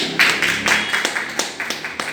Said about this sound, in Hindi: सर के लिए एक शानदार ताली होनी चाहिए